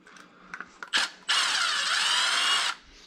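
A power drill with a 2.5mm hex bit driving screws out of a Losi DBXL-E 2 RC car whirs steadily for over a second after a few short clicks and a brief burst, then stops; close and loud.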